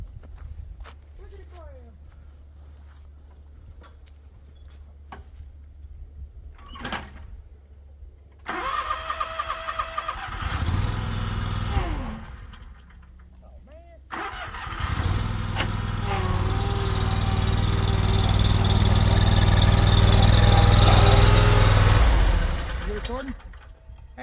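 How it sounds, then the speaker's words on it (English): A riding lawn mower engine cranks and catches, revving in bursts before settling into a loud, close, steady running drone; people talk and move around nearby in the quieter opening stretch. "I'll ride the mower back if you want to grab the camera"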